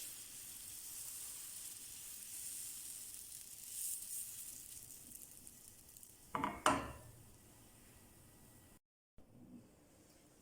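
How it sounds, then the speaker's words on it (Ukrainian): Pancake batter sizzles softly and steadily in a hot frying pan, with a brief clatter of utensil against metal partway through. "Таким же методом смажимо наступні млинчики."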